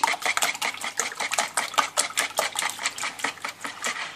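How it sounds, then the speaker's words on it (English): Eggs are whisked briskly in a medium-sized bowl, producing a fast, steady run of close, bright clicking taps from the whisk against the bowl, loud and alone with no voices. "put all your eggs in a medium-sized bowl and whisk"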